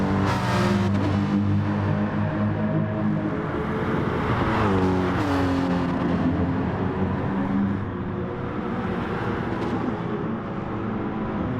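Petronas Mercedes SLS Gr.3 race car at Fuji in Gran Turismo Sport, its engine loud and continuous, revving up and down through gear changes with a brief tire squeal amid close racing.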